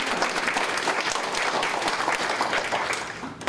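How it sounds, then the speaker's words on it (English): Audience applause at an interfaith healthcare summit, a dense burst of clapping from a crowd that holds steady and then begins to fade at the end. "let's give a round of applause for Crystal."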